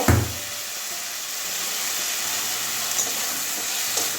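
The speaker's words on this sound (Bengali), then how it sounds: "চিংড়ি মাছ আলু একসঙ্গে কষিয়ে নেব" Shrimp and unfried potato pieces sizzle together in a pan, a continuous close frying hiss with a soft stir at the start and faint clinks later.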